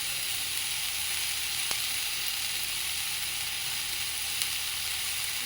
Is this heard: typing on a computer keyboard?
no